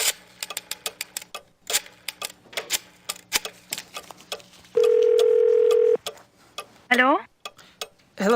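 Phone dialing in the adventure game Gabriel Knight 2: a run of quick clicks, a steady tone of about one second, then a few ring bursts near the end.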